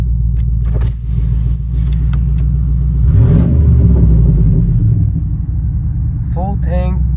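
An old beater car with a rough, rusted-out exhaust idles with a deep, steady low rumble, swelling briefly louder midway, while someone talks over it and a higher whine chirps near the end.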